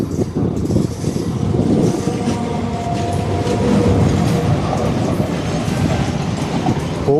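A Chennai suburban train bound for Gummidipoondi pulls out of the station, with a loud continuous rumble and rattling wheels on the track throughout.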